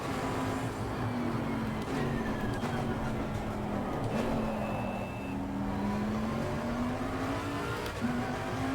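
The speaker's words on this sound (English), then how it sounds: "All that backfiring there." A race car engine in Assetto Corsa Competizione, with a sustained droning tone that shifts pitch as the car slides and recovers, with faint crackle on top during a session, loud and continuous without speech.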